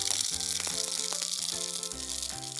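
Mustard seeds sputter and pop in hot rice bran oil in a kitchen pan, a continuous crackling sizzle with quick rattling pops under soft background music.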